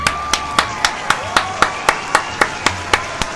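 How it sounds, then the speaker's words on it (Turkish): Evenly spaced claps, about four per second, ring out for a few seconds as applause for a new top-tier channel member during a GTA 5 mods stream, with no talk over them. "Alkışlıyoruz."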